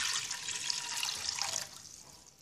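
Water pours into a cooking pot while homemade sandal sharbat is prepared. The liquid runs in a steady, close stream for about one and a half seconds, then trickles off.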